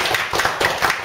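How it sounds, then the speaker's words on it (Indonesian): A small audience at a Golkar party discussion forum gives a brief round of hand clapping, a few distinct close claps over about a second. "Tepuk tangan."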